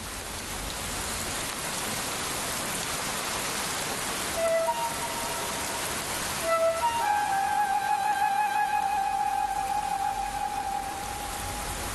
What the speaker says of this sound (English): The rain becomes stronger.